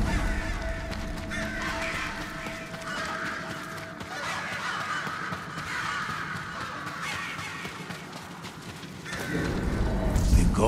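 Many crows cawing in a game setting, a ravaged village in Ghost of Tsushima, with overlapping calls over a dense, steady ambient background, growing louder near the end.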